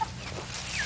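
Chickens cluck close by in a short, lively burst of clucks over a faint outdoor background.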